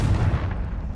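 Confringo spell blast in the Hogwarts Legacy video game, a short, loud, booming explosive burst with a heavy low rumble that quickly fades.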